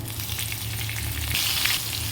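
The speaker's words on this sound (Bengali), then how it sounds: "বেগুনটাকেও হালকা ভাজতে হবে" Eggplant fries in hot oil with garlic, a dense continuous close sizzle that swells brighter near the end, with no talk.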